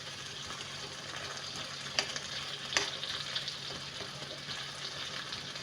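Onions sizzle and crackle steadily in a pot, a soft continuous frying hiss with a few faint clinks of stirring.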